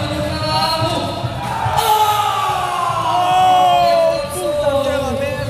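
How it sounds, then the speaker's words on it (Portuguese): A crowd at a skateboarding competition cheers, whoops and yells in a sustained roar that swells in the middle, with an announcer's voice running over the noise. "Vamos aplaudir."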